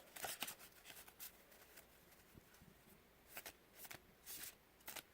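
Oracle cards with matte, non-glossy cardstock are shuffled softly nearby in quick papery riffles and slides, a few brief flurries with small pauses between them.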